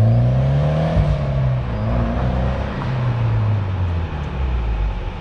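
A Honda S2000 sports car engine revs loudly and steadily close by, its pitch rising and falling through sustained low drones with no talking over it.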